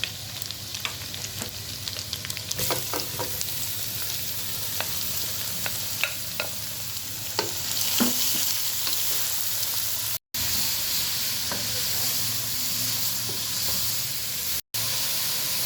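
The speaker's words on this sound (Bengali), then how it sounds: "এবার দিয়ে দিচ্ছি রেড করে রাখা গাজর" Grated carrots fry and are stirred in a pan with cinnamon and nuts for carrot halwa, a continuous close sizzle punctuated by frequent spoon scrapes and clicks, with two brief dropouts.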